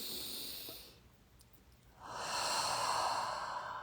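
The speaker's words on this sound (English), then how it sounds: "let's take a nice deep breath in" A slow, deep inhalation through the nose during a guided breathwork moment, starting after a brief pause as a soft, steady airy hiss that builds and holds for about two seconds, close and alone with no talking.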